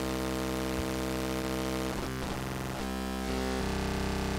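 Schlappi Engineering Angle Grinder synth module with its oscillator swamped by the grind section: a dense, buzzing, harmonically rich drone that shifts and breaks up midway, then settles into a thicker, harsher tone, steady and loud with no voices.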